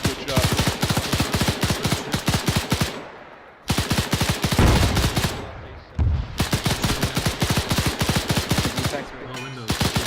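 Machine gun fire in the World War II game Winterschlacht comes in long rapid bursts of loud, close shots, split by brief pauses, with a boom or two between the bursts.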